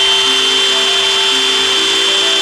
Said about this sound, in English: Now I'm turning on this drill.